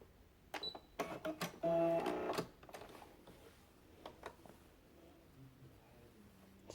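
A sewing machine runs a basting stitch along a marked line on a bodice (Vogue 8825 pattern): a quick whirring burst with a few clicks up front, then a near-quiet tail.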